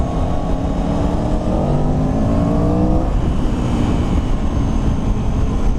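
An Aprilia or Moto Guzzi motorcycle engine revs loudly and close under light throttle, its pitch climbing and then holding a steady, throaty roar.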